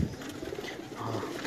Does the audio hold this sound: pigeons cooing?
yes